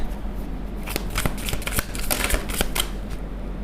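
Tarot cards are shuffled by hand to draw a card, giving a close, steady papery riffle with several sharper flicks and slaps, with no talk.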